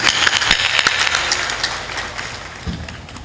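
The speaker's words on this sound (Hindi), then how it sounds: "जोर से ताली बजाना चाहिए" Audience clapping at a spiritual discourse, a dense burst of hand claps that starts loud and thins out over a few seconds.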